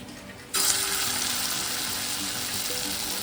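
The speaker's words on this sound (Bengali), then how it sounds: "বড়ার ব্যাটারটা রেডি করা ছিল তো বড়াটা এখন ভাজবো এইটা গরম হয়ে গেছে" Batter fritters dropped into hot oil in an iron wok, a sudden burst of sizzling that starts about half a second in and stays loud and steady to the end.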